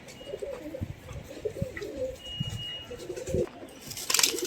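Domestic pigeons kept for sale in Vellore coo softly nearby in a low, throaty, repeated call, with a brief brighter chirp near the end.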